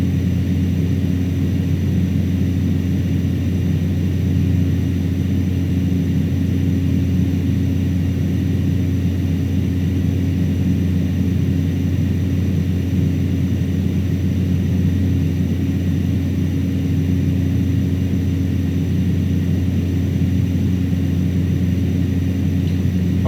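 Cessna Caravan single-engine turboprop in Microsoft Flight Simulator, a steady loud drone with strong low tonal bands and constant propeller hum throughout, no talking.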